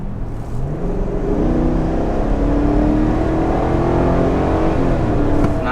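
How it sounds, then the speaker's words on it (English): A 2022 Chevy Tahoe accelerating hard, its engine note rising steadily in pitch with a smooth building roar, heard from inside the cabin and loud. "So here's just a little bit of acceleration."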